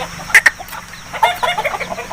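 An Aseel hen that has hatched chicks clucks inside a coop in a short series of close, sharp clucks, some quick and some spaced apart, with no talk over them.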